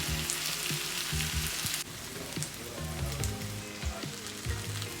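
Potatoes fry in a pan for a home-style soul food meal, giving a continuous close sizzle dotted with sharp crackles and pops and no voices.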